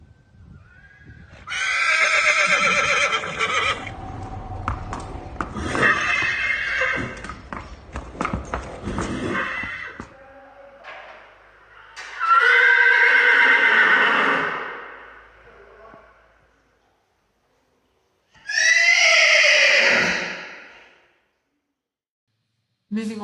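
An agitated horse lets out several loud, high-pitched whinnies in separate bursts with silent gaps between them, and faint hoof clip-clop and movement noise sit underneath the calls.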